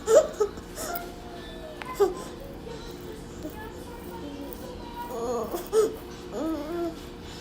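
A baby fusses and whimpers in short, intermittent cries, close by, with quiet gaps between the fussy bursts.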